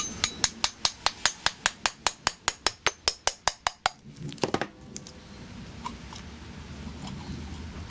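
A stuck bolt on a Suzuki two-stroke outboard carburetor takes a rapid, even series of sharp taps, about eighteen in a row. A few irregular knocks follow, then quieter handling noise.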